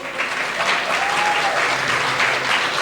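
An audience at a concert tribute evening gives steady, dense applause: many hands clapping together in an even roar that stays loud throughout.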